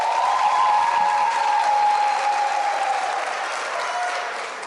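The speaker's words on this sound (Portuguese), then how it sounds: "APAI do município de Serra, Carlos Augusto, uma salva de palmas." An audience at a special legislative session claps in a steady round of applause, with a faint sustained tone running underneath, gradually softening toward the end.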